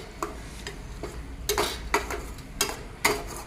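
Grated mango pickle mixture is stirred in a pot with a utensil, producing several distinct scraping, clinking strokes at an irregular rhythm over a faint background hiss.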